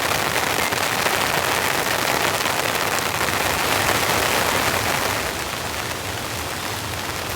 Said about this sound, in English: There's a nice steady rain out here